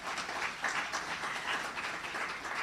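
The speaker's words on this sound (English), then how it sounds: "we can indeed give them a round of applause" A round of applause from the audience at the launch of Jamaica's 2022 Multiple Indicator Cluster Survey findings, a soft, fairly distant patter of many hands that stays steady throughout.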